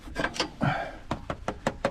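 A New Holland T4.75 tractor filter is rapped repeatedly to knock dirt out: about seven sharp, close knocks in an uneven rhythm, with a short scuffing pause partway through.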